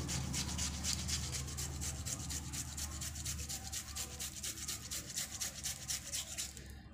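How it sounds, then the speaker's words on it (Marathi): A boiled potato is rubbed against a grater in quick, even rhythmic strokes, close and fairly loud, with a soft background hum and no talk. "आता आपल्याला बटाटा किसून घ्यायचा. उकडून घेतलेला बटाटा असं बारीक करून घ्यायचा, मऊ."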